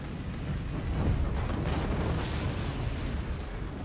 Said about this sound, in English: those nukes are going straight into smoke